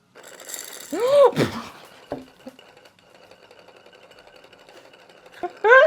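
A bead mill is cranked to load beads, giving short bursts of whirring, rattling mechanical spinning close by, separated by quieter gaps with a few small clicks.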